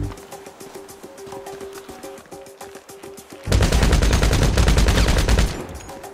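Sustained automatic gunfire in GTA Online, a loud rapid burst of shots lasting about two seconds after a quieter stretch of game ambience.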